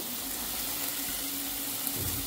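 Fresh spinach drops into a hot pan of frying onion, chili and tomato for a Maharashtrian pea and spinach bhaji, giving a steady close sizzle with no talking.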